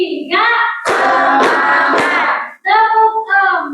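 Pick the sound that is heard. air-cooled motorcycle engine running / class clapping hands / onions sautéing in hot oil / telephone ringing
class clapping hands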